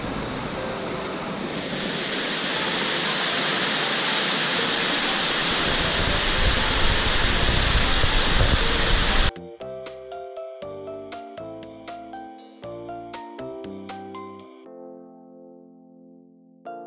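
Rushing waterfall on a forest trail at Kwatsi Bay in British Columbia's Broughton Islands, a loud continuous roar that swells for about nine seconds before cutting to other sounds.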